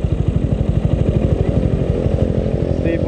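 A Raider 150 motorcycle fitted with a 32mm Koso carburetor idles high and holds steady revs near its limiter, giving a rapid, close, loud single-cylinder putter with a faint voice briefly in the background.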